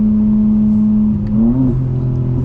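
A BMW M4 Competition xDrive engine, heard from inside, holds a loud steady drone, then blips sharply upward as it downshifts, settling into a lower hum.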